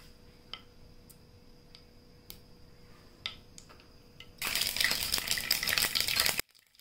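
Curry leaves, finely chopped green chili and cumin hit hot oil for poha tempering: after a quiet stretch of scattered ticks and clicks, a loud, crackling burst of frying erupts and spits for about two seconds, then cuts off abruptly.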